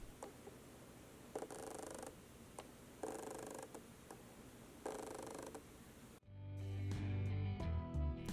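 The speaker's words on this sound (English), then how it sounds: "produces focus noise that the built-in microphone can catch" Canon EF lens autofocus motor on a camera body, heard as three short faint whirring bursts about a second long each, separated by pauses, over low background hiss before louder sound takes over.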